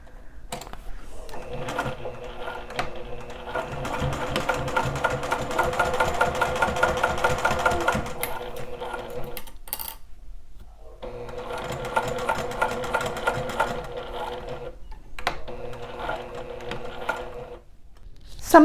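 Sewing machine stitching a boxed zipper pouch with a zipper foot, running in two long steady whirring stretches with a brief pause between, close and loud with no talking.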